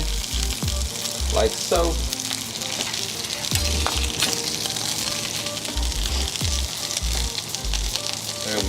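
Bacon strips sizzle and crackle loudly on a griddle as two pieces are laid onto each melted-cheese burger patty, a steady frying hiss throughout with brief speech over it.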